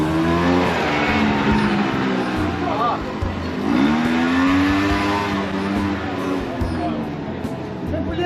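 Motor scooter engines rev and whine as they pass close by on a busy street in Marrakech, Morocco, with steady traffic noise throughout.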